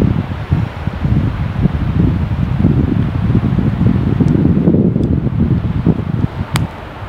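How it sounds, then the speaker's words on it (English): Strong wind buffets the microphone at a lakeside carp and bream pole-fishing spot, a loud, steady roaring rumble with gusty surges throughout. "look at the wind, do that to your bowl"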